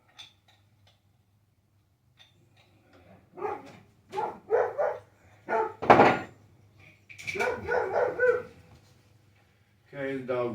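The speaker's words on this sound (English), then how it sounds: "Okay, the dog must see something out there." A dog barks in short bursts, moderately close, in a garage or driveway during a Camaro engine rebuild, with people talking around the barks.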